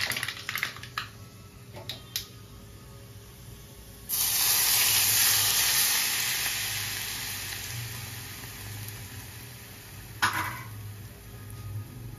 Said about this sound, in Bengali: তেলটা গরম হয়ে গেছে, এবার আমি রাইটা একটু দিয়ে ভেজে নেব।